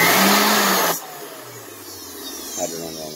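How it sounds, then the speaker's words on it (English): A vacuum cleaner motor repurposed to drive a shop extraction fan starts up loudly with a broad roar, then drops to a steadier, quieter whine and hum that keeps running, with a faint voice near the end. "motor out of a vacuum cleaner"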